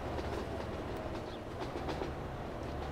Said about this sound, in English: What's this coming through? The Tampool Machines train.